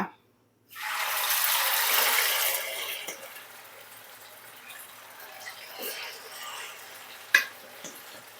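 After a moment of silence, pork drops into hot oil and a loud hiss bursts out, then settles into a quieter crackling sizzle with occasional clinks.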